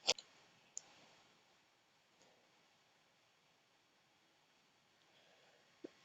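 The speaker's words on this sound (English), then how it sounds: "We'll click on an ad." Sharp mouse clicks on a website ad, one at the start, another shortly after, then near-silence before a couple more clicks at the end, close and quiet.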